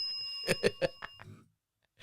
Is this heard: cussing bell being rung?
yes